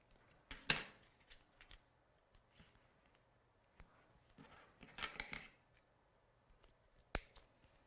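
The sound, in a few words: scissors trimming paper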